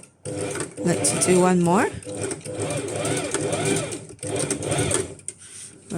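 A sewing machine back stitches during a clothing alteration, its rapid mechanical chatter running in short bursts with brief pauses, under a nearby voice.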